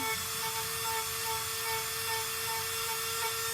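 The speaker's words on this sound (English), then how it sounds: "Here is our Dremel. Very simply, we're going to brush away. We're going to lightly grind out that area." A Dremel rotary tool grinds lightly at a shoe insole, giving a steady, continuous high-pitched whine with a faint abrasive rasp, close and even throughout with no talking.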